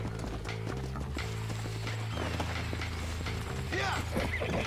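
Hooves of a horse in Red Dead Redemption 2 clip-clop steadily as the animal approaches, its gait growing louder over game music and mechanical clicks, with a brief whinny near the end.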